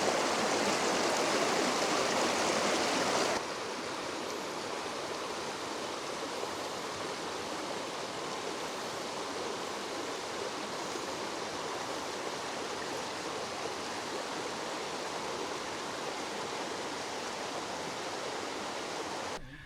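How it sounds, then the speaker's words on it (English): A river runs over rocky pools in steady, full broadband rushing, louder and brighter for the first few seconds, then settling into a constant close stream flow with no voices. "Lovely river this. Some nice pools in it as well."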